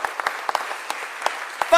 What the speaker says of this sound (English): Give those schools, their leaders, a super huge round of applause